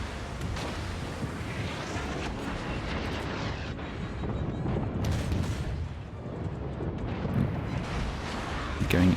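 Warship secondary guns firing in World of Warships: a continuous rumble of distant booms and artillery thuds rolling through the battle, loud and dense, with someone talking over it.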